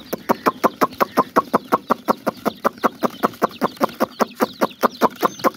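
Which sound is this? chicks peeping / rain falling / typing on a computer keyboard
chicks peeping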